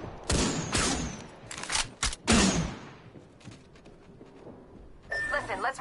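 Video game gunfire comes in several sharp bursts early on, then thins to scattered softer shots with background game noise, moderately loud, and no one talks over it.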